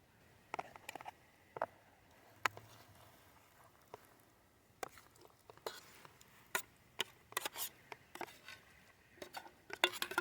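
Plate and utensils clink and scrape in scattered sharp taps and clatters while a hot peach pan dowdy camp dessert is served up, close and fairly quiet with pauses between handling sounds.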